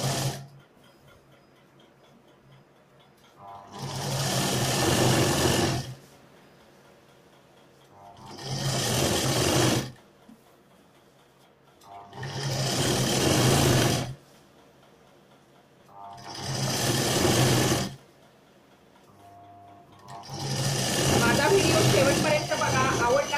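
A domestic sewing machine stitches salwar fabric folded over canvas in five separate runs of steady mechanical whirring, each lasting a few seconds and split by short quiet pauses, close and moderately loud.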